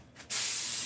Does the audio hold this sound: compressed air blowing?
yes